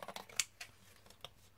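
Pinking shears cut through card in a few short, quiet snips spaced across a brief moment, close by in a quiet room.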